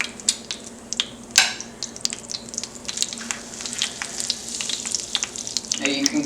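Spinach ricotta ravioli hit a heated pan with butter and fry, producing a crackling sizzle with scattered sharp pops and clicks from handling, moderately close with no talk over it.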